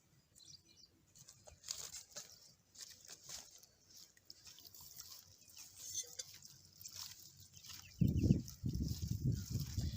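Water is mixed into fish curry spices with salt and turmeric for a tilapia river fish curry, faint and quiet at first, then a louder burst of wet sloshing and stirring over the last two seconds.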